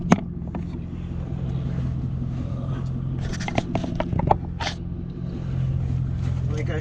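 A C6 Corvette drives along with a steady low engine drone and road rumble inside the cabin, broken by scattered clicks and scrapes, while a person talks over it.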